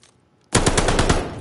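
Rapid burst of automatic gunfire in a first-person shooter, a search-and-destroy match, bursting in loud and close after near silence and rattling on in quick repeated shots.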